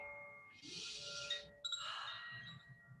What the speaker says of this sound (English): put on one of these chimes and breathe or something